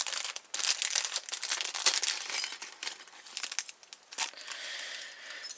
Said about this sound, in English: So right away we have our tension wrenches in a plastic bag. You may as well take those out.